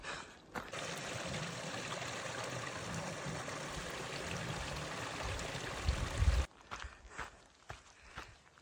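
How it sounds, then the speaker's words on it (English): Water trickles and burbles steadily over rocks at close range in Javina Canyon on the Continental Divide Trail, with a brief shuffle of footsteps near the end. "See, beautiful flow up this canyon."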